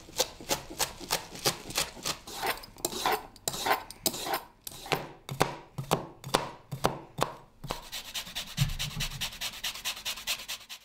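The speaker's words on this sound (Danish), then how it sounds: "Og så skal det hakkes rimelig fint." A sharp knife finely chops kale on a board in a home kitchen, a fast steady run of crisp knocks, close and loud, with no talk.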